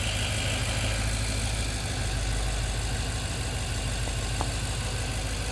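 A BMW M6 engine idles steadily up close, a constant low rumble with a faint ticking texture and a brief click near the end.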